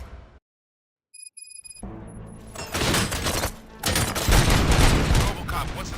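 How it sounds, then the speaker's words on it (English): Rapid bursts of gunfire crackle after a brief silence and a few electronic beeps, loud and dense, in a firefight from the video game RoboCop: Rogue City. "Gunshots? What's going on?"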